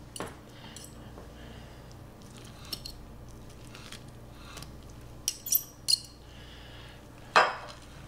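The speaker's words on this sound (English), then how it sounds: "I'm going to start removing all the ham from the bone." Cooked ham being pulled and shredded from the bone for split pea soup, quiet soft squishing and handling with a few sharp clinks of utensils against a dish or pot, intermittent and close.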